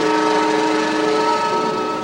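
Long Island Rail Road diesel locomotive whistle sounds as one steady, loud sustained blast with strong even tones, heard close from the cab with no talking.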